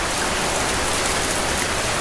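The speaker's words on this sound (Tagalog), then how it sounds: "Naligo na lang tayo sa ulan." Steady rain falls continuously in an animated outdoor scene, a dense, even hiss of drops with no voices and no thunder.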